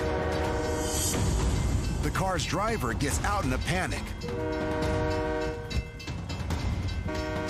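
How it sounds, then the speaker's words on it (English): A northbound train approaching a level crossing, its horn blaring in repeated wavering blasts close by over rail rumble, while a narrator talks over it. "northbound train approaches."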